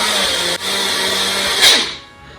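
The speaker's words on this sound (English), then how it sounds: "Shaker blender, totally normal." A shaker blender motor whirs steadily at close range, grinding breadcrumbs, briefly dipping once, then rising in pitch before winding down and stopping.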